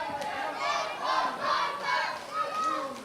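A wrestling crowd at an Irish Whip Wrestling show loudly jeers and shouts at the Foreign Legion in steady rolling waves of noise, with no voice rising clearly above the rest.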